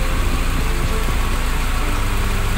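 Car engine idling at about 1000 RPM during carburetor and distributor tuning, a loud, steady, even rumble throbbing close to the microphone with no pauses, alone.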